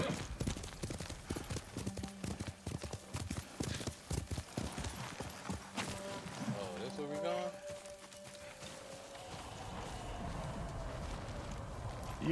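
Rhythmic clip-clop of galloping horse hooves in Ghost of Tsushima, steady and close, with voices talking over parts of it and a horse's whinny near the middle.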